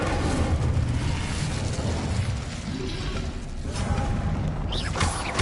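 Incendio fire spell being cast in Hogwarts Legacy on PS5: a loud, sustained roaring burst with crackling, mechanical rattling texture throughout and no talking.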